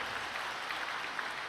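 An audience at a Korean church service applauds, a brief, steady wash of clapping with no voices over it.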